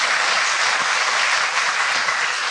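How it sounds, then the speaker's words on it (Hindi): A large audience at a stress-relief camp session claps together in a sustained, dense burst of applause, loud and even throughout with no talking over it. "तो ताली बजाएं फिर"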